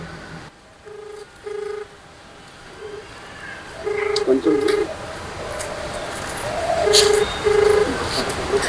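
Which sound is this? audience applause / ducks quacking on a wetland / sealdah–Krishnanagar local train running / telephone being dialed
telephone being dialed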